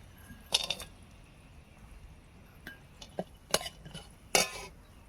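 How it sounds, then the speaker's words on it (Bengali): Jackfruit seeds going into a frying pan and being stirred, with sharp metallic clinks and scrapes of a utensil against the pan over a faint sizzling hiss, in a few separate bursts. "এবার এগুলোকে ভেজে নেব। কাঁঠাল বীজগুলোকে দিয়ে দেবো।"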